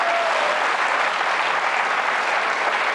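A quiz show studio audience at Questions pour un Champion breaks into sustained, dense applause for the HEC business school team, steady and full throughout with no talk.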